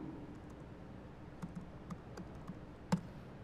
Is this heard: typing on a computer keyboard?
yes